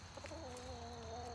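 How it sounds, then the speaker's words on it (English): A backyard flock of chickens clucks softly, a few short rising and falling calls over a faint steady hum, heard at low level. "That's my flock of chickens."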